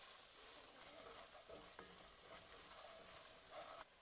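Cajun seasoning being stirred into a pot of meaty jambalaya, a steady soft scraping and stirring over a continuous low sizzle, close and fairly quiet with no talk.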